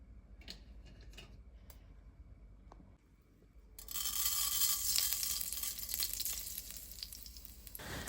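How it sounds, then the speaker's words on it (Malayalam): Mustard seeds crackle and pop in hot coconut oil for a Kerala sadya-style cabbage thoran, starting with faint scattered ticks, then a loud bright sizzle that bursts in halfway and holds steady, close and alone. "വെളിച്ചെണ്ണ ഒഴിച്ചതിന് ശേഷം നമുക്ക് കുറച്ച് കടുക് പൊട്ടിച്ചിടാം കേട്ടോ."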